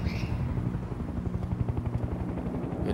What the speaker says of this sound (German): Heli im Anflug auf 6:31.